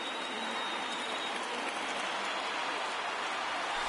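A big baseball crowd of about 26,000 fans rises and cheers through a Phillies at Indians MLB game, making a dense, steady wash of applause and crowd noise that holds at a fairly quiet, even level throughout.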